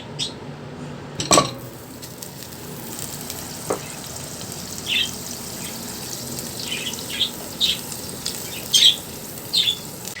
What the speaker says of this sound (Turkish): uygun bir tencerenin içerisine 125 gram margarini alıp eritiyorum.